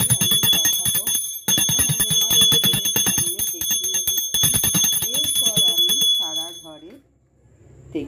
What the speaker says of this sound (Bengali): তাহলে আমি এখন ঘণ্টা বাজিয়ে জিনিসটাকে